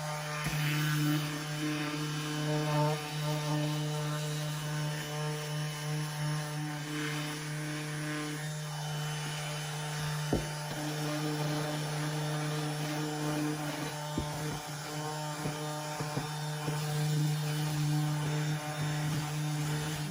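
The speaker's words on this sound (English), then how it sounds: "I have some 80 grit sandpaper on my orbital sander, and I want to hit those spots that are not accepting the stain very well" An orbital sander fitted with 80-grit sandpaper works over stained wood on a thrifted home decor piece, producing a continuous droning motor hum that stays steady for the whole stretch, with occasional light knocks.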